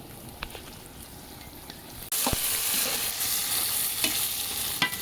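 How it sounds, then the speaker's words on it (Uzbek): Potatoes fry in a pan with onions, a steady hiss of sizzling oil that grows suddenly louder partway through and continues with faint crackles. "kartoshkani qovurib olamiz."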